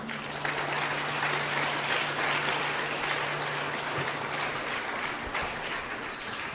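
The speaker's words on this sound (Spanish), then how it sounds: "¿Cuántos pueden aplaudir al Señor?" A church congregation applauds during a sermon, a loud, sustained crowd of clapping hands filling the hall, with a low steady hum underneath and no speech on top.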